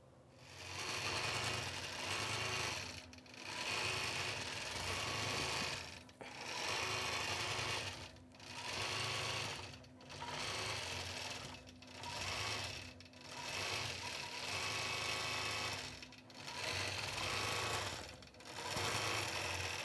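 A sewing machine quilting a quilt runs in steady rapid stitching bursts of about one to two seconds, separated by short pauses, close and even throughout.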